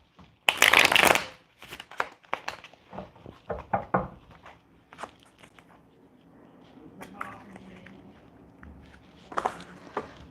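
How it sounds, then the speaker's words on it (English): Playing cards riffled and shuffled by hand during a tarot-style reading, a burst of crisp riffling at the start, then scattered snaps, taps and shuffles, with a final flurry near the end. "I'm already losing my cards shuffling"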